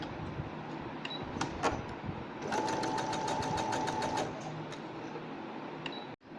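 An electric sewing machine stitches blouse fabric strips in a steady rapid burst of needle strokes lasting under two seconds, with quieter handling noises and faint clicks before and after.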